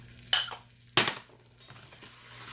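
Parched flour being stirred with ginger, cardamom powder and raisins in a pan: two quick scraping clinks of a utensil against the pan, then a faint soft rustle.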